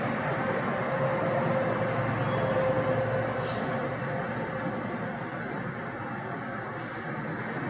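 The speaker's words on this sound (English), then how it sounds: "Car's really noisy." Road and engine noise fills a moving car's cabin, a constant broad roar with a faint steady tone, and a couple of brief clicks stand out over it.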